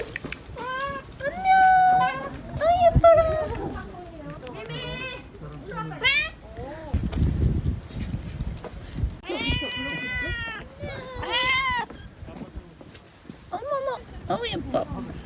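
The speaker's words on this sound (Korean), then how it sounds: "어머 고양이." Cats meow repeatedly on a hillside outing on Jeju Island, South Korea. The calls come in close bursts near the start and again later, mixed with people chatting nearby.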